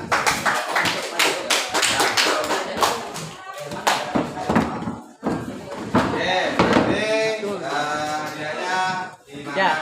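A group of students in a classroom claps enthusiastically in a burst of applause, with voices and cheering mixed in as the clapping rises and fades.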